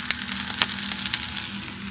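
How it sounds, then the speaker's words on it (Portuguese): Torresmo pork cracklings fry in a pan with a steady, close sizzle and scattered sharp pops and crackles throughout, over a faint low hum. "fritando aqui um torresmo"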